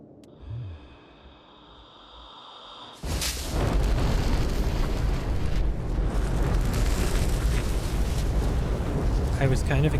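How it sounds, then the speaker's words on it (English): Torpedoes exploding in a video game: a short rumble and tones, then a sudden loud blast that settles into a sustained roaring, crackling wash of explosion noise lasting several seconds. "I was kind of expecting the torpedoes to blow up bigger than that."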